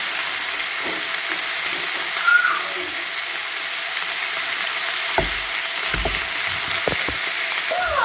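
Vegetarian spaghetti stir fry with beans sizzles steadily in a pan, a constant close hiss with a few soft clinks and stirring knocks toward the end.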